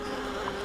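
Dense, steady buzzing of many bees inside a hive of a queen rearing system, close and continuous with a low droning hum.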